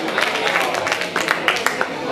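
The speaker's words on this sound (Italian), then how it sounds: "Intanto facciamo un applauso ad Asia" An Italian audience at a talk on cartomancy and astrology gives a dense, continuous patter of applause, moderately loud, with faint voices mixed in.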